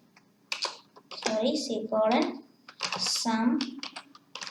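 Typing on a computer keyboard while writing Python string code, with soft, quick key clicks heard under continuous close speech.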